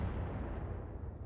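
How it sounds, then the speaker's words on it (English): In the Roguetech mech combat game, a mech's ammunition cooks off in a single deep, booming blast that rumbles and fades quickly, fairly faint in the mix. "Ammo explosion."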